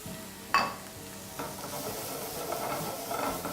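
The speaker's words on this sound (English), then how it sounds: "we're just going to continue sauteing that" Finely chopped green apples and leeks sauté in a pan with a soft continuous sizzle, a sharp clack of a utensil against the pan near the start and light stirring scrapes afterward, with no talking.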